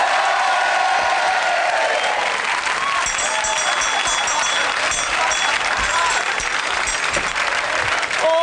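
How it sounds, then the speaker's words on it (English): Studio audience on a comedy variety show applauds loudly and steadily, with cheers and whoops mixed in and some voices audible over the clapping. "let's have a big round of applause and meet Les"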